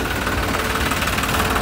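A Mustang tractor engine runs just after starting, a close, loud, steady rumble with a fast knocking pulse and no voices over it.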